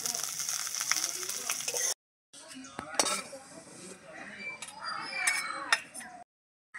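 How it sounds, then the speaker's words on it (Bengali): Whole cumin seeds, dried red chillies and a bay leaf fry in hot oil in a kadai, giving a light crackling sizzle with metallic clinks of a spoon against the pan, briefly cut off mid-clip. "এখানে নিয়েছি গোটা জিরে আর শুকনো লঙ্কা আর একটা তেজপাতা। এগুলো আমি ভেজে নেব।"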